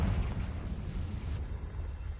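A Confringo spell blast in the video game Hogwarts Legacy, a faint, low, rumbling burst that fades over about two seconds.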